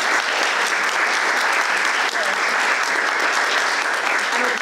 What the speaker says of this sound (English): Everybody, well deserved round of applause.